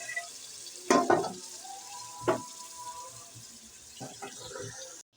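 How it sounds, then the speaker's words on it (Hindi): Water poured into a hot pan coated with leftover chicken masala sizzles and splashes in a few loud bursts, then settles into a quieter hiss with lighter clatter toward the end. "पैन में जो मसाला लगा हुआ था वो भी हम डाल देंगे पानी डालकर"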